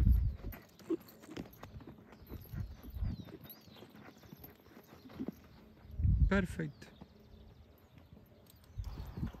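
A criollo gelding's hooves clip-clop unevenly as he is led on a ranch, several dull strikes with short pauses, while someone speaks briefly nearby.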